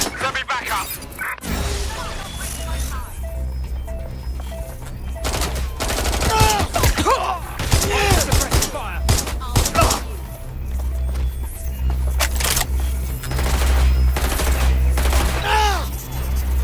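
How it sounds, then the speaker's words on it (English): Heavy gunfire in the video game Watch Dogs Legion, dense bursts of automatic shots and thuds rattling almost continuously, loud and close, with voices shouting in between. "Shots fired!"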